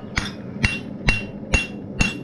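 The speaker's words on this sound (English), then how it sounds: "Then you start hammering down." A blacksmith's hammer strikes hot metal five times in an even rhythm while forging a leaf, each blow a sharp ringing clang close by with a short metallic decay.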